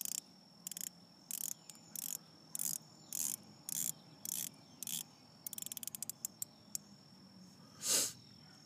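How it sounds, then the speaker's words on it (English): Aluminum unidirectional dive bezel on a Scurfa Diver One watch clicking as it is rotated, a regular series of sharp close ratcheting clicks, then a fast burst of clicks, with no talk. "the clicks are very precise. And it is a unidirectional rotating dive bezel."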